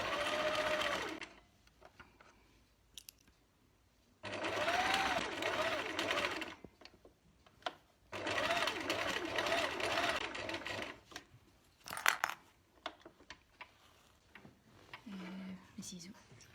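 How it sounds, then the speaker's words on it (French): Sewing machine running in several bursts while stitching a zigzag around a lock of fabric hair on a unicorn sleep mask, its whirring stops and starts between pauses, with quiet talk and handling noises in the gaps. "Et maintenant, on réalise un point zigzag tout autour"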